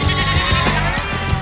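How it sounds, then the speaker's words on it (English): Goats bleating on a kindergarten farm, a couple of loud, wavering bleats close by in a short burst. "there's goats over there."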